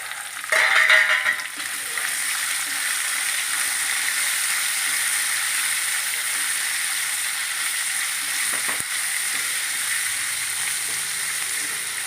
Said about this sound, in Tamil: அதனால தான் இதை வந்து நான் வதக்குறேன்